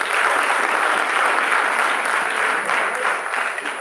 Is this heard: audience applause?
yes